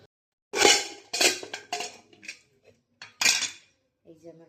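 A large pressure cooker being handled and readied for washed rice, with loud metallic clanks and clinks in several separate bursts, then a brief quieter tonal sound at the end.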